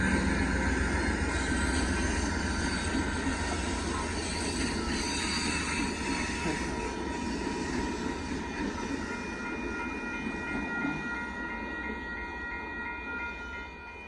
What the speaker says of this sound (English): There goes Amtrak going by